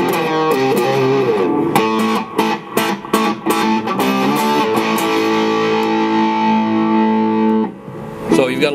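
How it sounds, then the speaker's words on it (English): A Tom Anderson Short Classic electric guitar on its humbucker, pushed through a light drive pedal, plays loud, close chords with crisp strummed attacks and then a long sustained ringing chord that cuts off near the end. "I'm going to turn on just a little bit of a drive pedal here"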